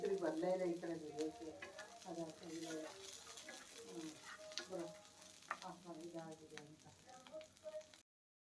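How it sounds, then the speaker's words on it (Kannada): Ginger frying in a pan of chutney ingredients gives a steady close sizzle, with stirring and scraping running through it. "ಅದಾದಮೇಲೆ ಸ್ವಲ್ಪ ಶುಂಠಿ ಇದನ್ನು ಹಾಕ್ಕೊಂಡು ಇನ್ನೊಂದು 2 ನಿಮಿಷ ಫ್ರೈ ಮಾಡಿಬಿಟ್ರೆ ಮುಗೀತು."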